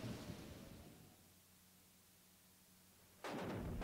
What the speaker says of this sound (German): Sieht nach einem heftigen Gewitter aus heute Nacht.